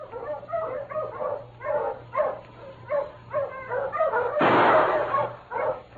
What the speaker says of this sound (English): Those dogs, Chico.